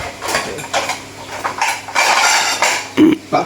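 Plates and dishes clatter in a home kitchen, with several sharp clinks and knocks of crockery and cutlery in quick irregular bursts, close and fairly loud.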